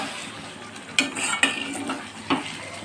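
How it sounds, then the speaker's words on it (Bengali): Potatoes stir-fried in a pan for a prawn and yam curry: a sizzle of oil under several sharp spatula scrapes and clacks against the pan, close and clear with no talking. "এবারে এই আলুটা দিয়ে আমি কষিয়ে নেব।"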